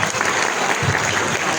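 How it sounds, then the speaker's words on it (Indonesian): Audience applause at a school group's visit to Universitas Padjadjaran in Bandung, a dense, steady wash of clapping from a crowd that fills the whole moment without pause. "tepuk tangan dulu untuk semuanya"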